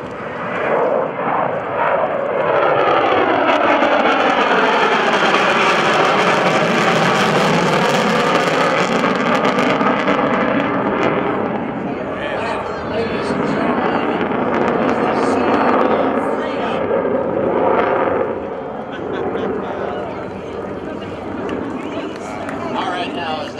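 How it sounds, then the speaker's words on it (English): Rockwell B-1B Lancer bomber with four General Electric pod-mounted engines roars loudly and steadily, a sustained broadband jet rumble that swells and slowly fades as it passes, with voices faintly beneath. "look at those four General Electric pod-mounted engines underneath the fuselage there"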